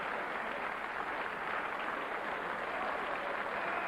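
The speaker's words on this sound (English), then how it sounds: "So there he is, milking the applause a little bit, the good loser." Boxing crowd applauding a losing fighter, a steady wash of distant clapping and crowd noise, fairly faint and even throughout.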